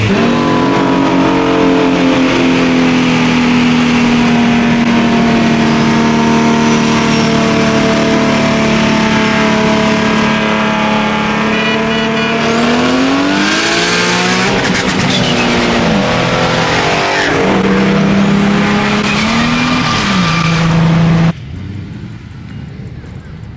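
A Nissan GT-R accelerates hard while racing. Its loud engine note climbs through the gears and rises in pitch, with a shift mid-run and a sharp cut-off near the end.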